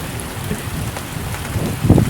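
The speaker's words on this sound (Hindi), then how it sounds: "तेज़ हो गई है बारिश" Heavy rain pours steadily in a jungle, with a low rumble of thunder swelling near the end.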